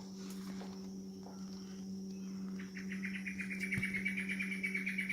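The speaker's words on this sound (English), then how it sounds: "Cue bird." A bird calls in overgrown, slightly rainforest bushland by the Brisbane River near a cliff face, giving a quick run of repeated bright chirps in the second half over a steady insect drone.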